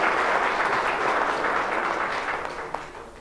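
Crowd applause at a tourism talk in Puerto Plata, a dense, steady wash of many hands clapping that stays fairly loud and slowly fades toward the end, with no voices over it.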